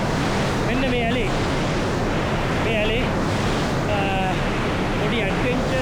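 River water rushes loudly and steadily where the flow divides into an irrigation canal, a broad continuous roar with voices talking briefly over it.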